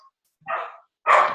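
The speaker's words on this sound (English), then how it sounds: "my dog won't stop barking" A dog barks twice, a shorter bark followed by a louder, fuller one, close to the microphone with a brief pause between them and no talking over it.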